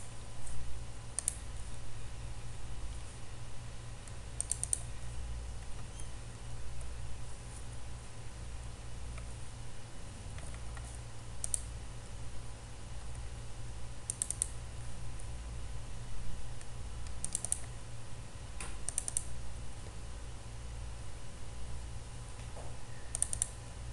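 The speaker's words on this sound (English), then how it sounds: "we can just go and type some random marks like 6" Marks are typed into an Excel spreadsheet on a computer keyboard, quiet irregular key clicks and taps scattered across a low steady room hum, with no speech.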